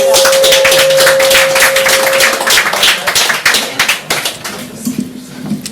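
An audience at an open-mic night applauds a performing artist with loud, lively clapping that starts full and thins into scattered, separate claps as it fades, a sustained tone ringing underneath at first.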